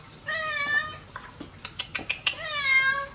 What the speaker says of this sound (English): He'll just sit there and keep on meowing right over top of it.